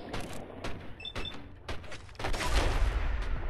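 Gunfire from the video game Fallout 4: several sharp shots crack in quick, irregular succession, followed by a denser, louder burst of noise.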